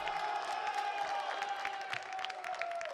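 A small press-conference crowd cheers and applauds in a steady, blended wash of clapping and shouts, moderately distant and fairly quiet throughout.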